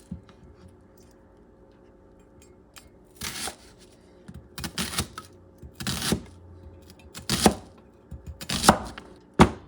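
A knife chops shrimp-with-green-mojo ingredients on a cutting board in uneven bursts of quick strokes, close and fairly loud, with quiet pauses between them and no talking.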